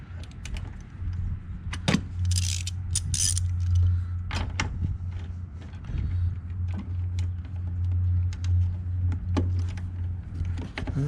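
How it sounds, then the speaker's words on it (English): A 10 mm screw is backed out of a Chevy Spark radiator reservoir with a tool, giving a close mechanical whir with occasional clicks and metallic ticks over a low steady hum. "So I'm going to rip these 2 screws off"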